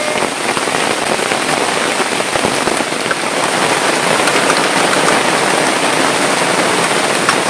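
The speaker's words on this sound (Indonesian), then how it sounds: "Hujan lobe-lobe." Heavy rain pours onto a tarp-covered cabin, a dense, steady hiss of drops drumming on the plastic sheet, loud and unbroken throughout with no voices.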